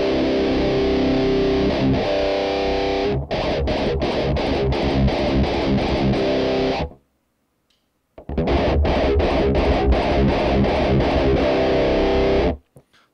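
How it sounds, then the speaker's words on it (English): Heavily distorted electric guitar through a Boss Metal Zone Waza Craft pedal chugs in bursts of rapid palm-muted strums, drops to silence for about a second, then resumes loud and dense until an abrupt stop. "it's way more of like a modern distortion"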